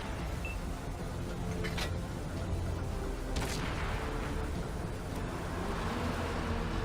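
A Matilda tank gun in World of Tanks fires small shells, a few sharp booms standing out over a constant dense rumble of engine and battlefield noise.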